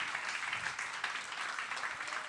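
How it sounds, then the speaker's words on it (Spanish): A church congregation applauds with continuous dense clapping, heard faint and somewhat distant across the whole stretch, with no voices over it. "den un aplauso al Señor."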